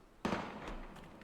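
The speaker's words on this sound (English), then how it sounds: "Gunfire!" A single sharp gunshot from the Valkyria Chronicles war video game cracks out suddenly, followed by a short, fading noisy tail.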